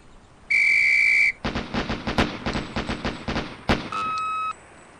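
A sharp range whistle blasts loudly at a police firing drill in the game Police Quest SWAT, followed by a rapid burst of repeated gunshots, then a second, shorter whistle tone near the end.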